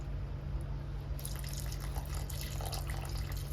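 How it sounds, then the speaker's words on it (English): Chicken stock poured into a pot of chili, a steady liquid splash and trickle over a constant low hum, close and fairly faint, with no talk. "I'm going to have to add in some chicken stock"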